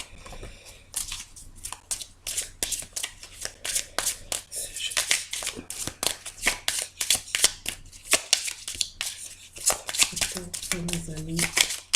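A tarot deck is cut and shuffled by hand in a rapid, continuous run of close, crisp riffling and slapping card sounds, with someone speaking over it near the end.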